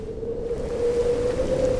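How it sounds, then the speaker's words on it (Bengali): Rain falls as a brief steady hiss under a sustained low tone, a sound effect in a Bengali village ghost story about a stormy night. "তারপর নামলো বৃষ্টি।"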